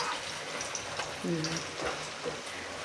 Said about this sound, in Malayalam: അത് എണ്ണയിൽ നിന്ന് കോരിയെടുക്കട്ടെ. നന്നായിട്ട് പൊരിഞ്ഞിട്ടുണ്ട്